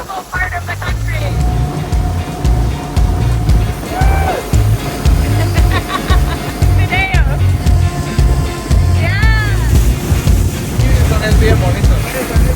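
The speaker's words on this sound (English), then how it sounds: "I love these boat rides." A motorboat engine drones steadily on the sea near Puerto Barrios, Guatemala, while water splashes and rushes past, with wind noise and people talking and cheering over it.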